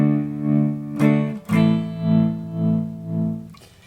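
Guyatone Ultrem tremolo pedal with its blend control engaged, shaping a sustained guitar chord into a smooth, gently pulsing swell of about four soft waves, a couple of fresh strums breaking in along the way, close and clear with no talking.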